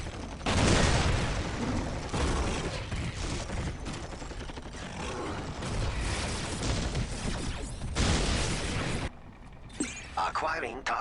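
Tau missile salvos in the strategy game Dawn of War Soulstorm roar and crash continuously, loud and dense, with bursts of explosions and mechanical clatter, dropping away near the end.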